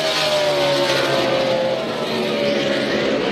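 A NASCAR stock car on a qualifying lap in the 2017 ISM Connect 300 roars continuously at high revs, its engine pitch sliding slightly down and back up as it sweeps around the track. The sound is loud and sustained with no voices.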